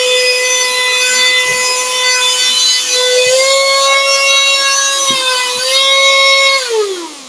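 Small handheld vacuum cleaner runs continuously in a suction test, a loud, steady whine with strong harmonics that shifts pitch slightly a few times as the load changes, then drops off at the end, with occasional faint knocks and no voices.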